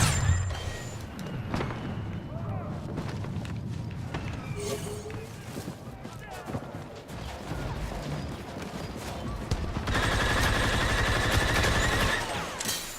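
Rapid-fire blaster gunfire in Star Wars Battlefront 2 on Endor, dense bursts of quick shots with booms and running footsteps, louder and more sustained near the end.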